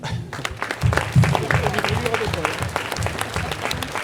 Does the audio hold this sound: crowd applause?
yes